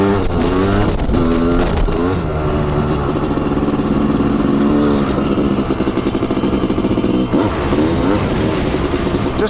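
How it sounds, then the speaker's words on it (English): A Honda CR500AF dirt bike engine revs hard in fourth gear while lifting into a wheelie by a lake, a loud, steady roar with rising and falling pitch sweeps throughout. "Just wheelies on command in any gear."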